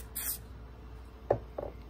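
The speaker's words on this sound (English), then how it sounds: "I'm going to take and spray the accelerator on this" Short hissing bursts of glue accelerator sprayed from a can onto a part while upgrading a FOXAlien Masuter CNC machine, a strong first spritz followed by two fainter puffs, close and without talk.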